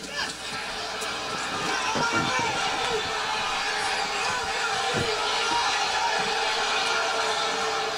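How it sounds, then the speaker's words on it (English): Arena crowd of about 16,000 at the NCAA wrestling finals, 125-pound bout, roaring and booing as a sustained dense wash of voices, steady and loud, with an announcer's commentary over it. "And the booing you hear comes primarily from those clad in yellow and black"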